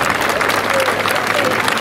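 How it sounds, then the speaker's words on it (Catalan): Steady crowd applause at an outdoor gathering of elderly independence supporters, dense clapping filling the whole moment loudly with a few raised voices mixed in. "Bon aplaudiment per Cambrils, sisplau"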